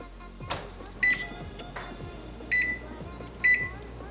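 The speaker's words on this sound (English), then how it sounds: "Set the timer." An oven timer for baking lemon bars is set with a series of sharp electronic beeps, each close and clear, spaced irregularly across a few seconds over a low kitchen hum.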